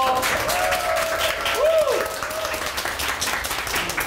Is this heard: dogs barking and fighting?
no